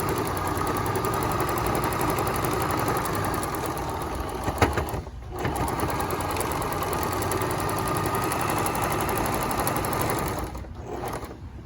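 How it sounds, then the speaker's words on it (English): A sewing machine running an edge stitch along a fabric face mask, whirring steadily with a brief pause midway and stopping near the end. "I want an edge stitch, so I'm just going to do a little edge stitch"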